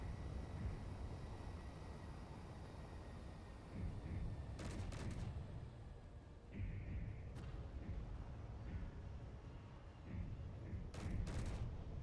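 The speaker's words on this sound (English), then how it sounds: "That does not help seeing incoming Gatling fire from those little guns they have." Gatling gunfire from small guns in the video game Space Engineers rattles in dense, sustained bursts. It plays under a steady bed of game noise, and several sharper volleys cut through near the middle and toward the end.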